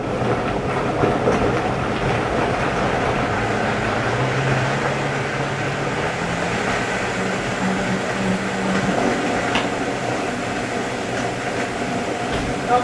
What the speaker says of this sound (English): Those of you who had a vitamix, you know how to work it. Flip it on, gradually turn it up to 10